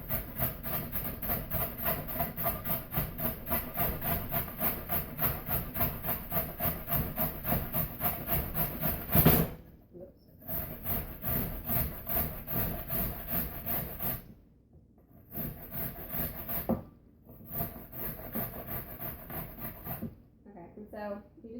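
Carrots are grated by hand on a grater in a home kitchen, a fast, steady train of rasping strokes broken by short pauses near the end.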